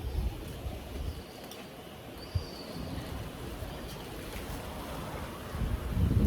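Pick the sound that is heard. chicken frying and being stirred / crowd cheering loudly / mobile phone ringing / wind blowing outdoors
wind blowing outdoors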